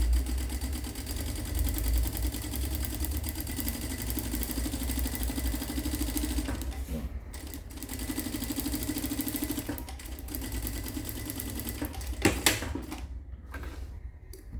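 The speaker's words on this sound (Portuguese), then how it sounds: "O próximo passo vai ser costurar a lateral aqui" A sewing machine stitching the side of a backpack runs in a steady fast mechanical whir, close and continuous, with brief pauses and a few clunks near the end.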